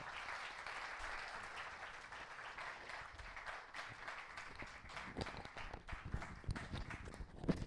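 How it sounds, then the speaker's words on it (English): Audience applause at an HR conference panel, moderately quiet clapping from a seated crowd that thins into scattered, uneven claps, with some light shuffling and footstep-like knocks toward the end. "Kindly give a huge round of applause for Ms. Pia Shome"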